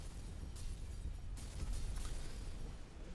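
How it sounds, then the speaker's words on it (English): Game explosions in the first-person shooter Tower of Guns, a dense, loud rumbling blast texture with a couple of sharp bursts around the middle, continuous low boom throughout with no talking. "I like the explosion animations."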